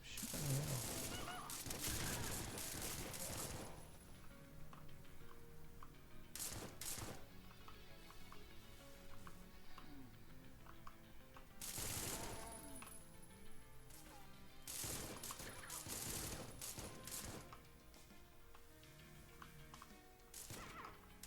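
Enemy gunfire in the shooter Supplice comes in loud, clustered bursts of rapid shots separated by quieter stretches, with a low game soundtrack humming underneath.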